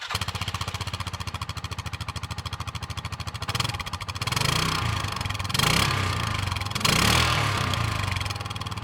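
Cub Cadet Challenger MX 750 UTV engine running outside, starting with a steady rapid idle thud, then revving up in three swells before settling back, close and loud.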